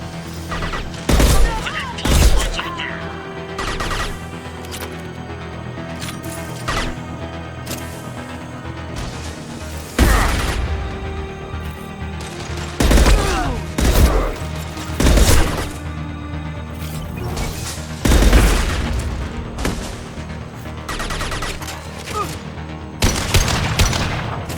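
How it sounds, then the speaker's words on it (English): Sharp gunshots and heavy concussive blasts in a Mass Effect 2 firefight, loud irregular bursts of fire spaced across the scene over a steady background hum, with no talking. "Firing concussive shot!"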